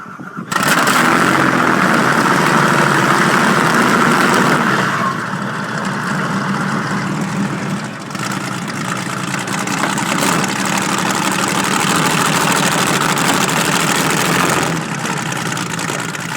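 A vintage car powered by a detuned Merlin 512 aircraft engine, built in the UK, idles loudly and steadily after starting, with a deep rumbling roar and a slight drop in intensity a few seconds in.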